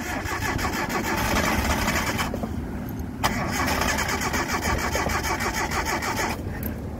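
A Datsun 720 ute's engine cranks and fires, running loud and close with a rough, steady mechanical roar and a harsh noise from the air cleaner, broken by a couple of brief dips and one sharp bang mid-run.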